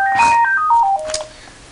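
A telephone rings with a bright electronic melodic ringtone, a short sequence of stepped tones that plays loudly and alone, then cuts off into quiet room tone.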